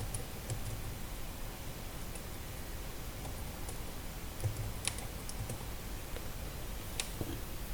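Light, fairly quiet clicks of typing on a computer keyboard at a desk, scattered irregular keystrokes over a steady faint background hiss, with no talking.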